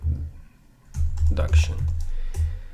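A computer keyboard clicks in short clusters of keystrokes close by, with someone talking quietly over and between the typing.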